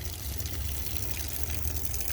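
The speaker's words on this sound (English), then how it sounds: "a trickle because there's no more water in it" Water trickles steadily from a leaking water line pipe as the flow dwindles, a continuous broadband wash of running liquid with low rumble underneath, close and fairly loud throughout.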